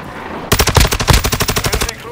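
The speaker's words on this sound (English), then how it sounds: "Taking effective fire!" Rapid automatic gunfire in Call of Duty: Modern Warfare II, a loud, close burst of evenly spaced shots starting abruptly and rattling steadily to the end.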